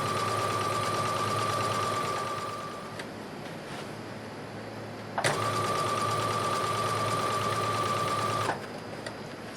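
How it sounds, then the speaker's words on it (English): Sewing machine stitching straight down the side of a pioneer dress, a loud steady motor hum and rapid needle chatter running continuously with one brief pause and restart. "I'm going to continue stitching. I'm going to go straight down the side of that dress"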